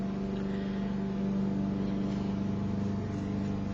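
A lawn mower runs steadily somewhere outside at a distance, a faint, even mechanical drone with a low hum that holds without pause throughout.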